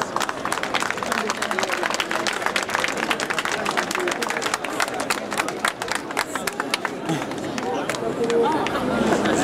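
An audience breaks into applause, dense rapid clapping mixed with crowd murmur and chatter that stays strong and swells slightly toward the end.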